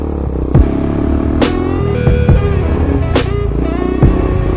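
A motorcycle is ridden through a canyon, its engine droning loud and close with a steady rumble, broken by a few sharp wind-buffet or bump noises.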